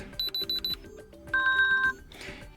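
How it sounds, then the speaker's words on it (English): The alarm ringtone on a Samsung Galaxy Watch Ultra2 plays as a bright electronic melody. A run of short repeated beeps is followed by a longer sustained chime phrase, clear and close. "we can change the alarm sound"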